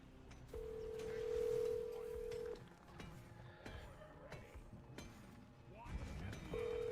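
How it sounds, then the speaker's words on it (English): A telephone call is placed at home: a steady dial or ringback tone sounds for about two seconds, breaks off, and returns near the end, with bits of talk and household noise in between. "is to have the phone ringing at the same time"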